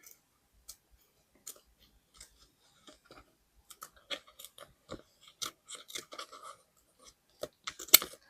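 Scissors snipping through planner material in sparse, quiet cuts that grow busier and slightly louder toward the end, close by, with no talking.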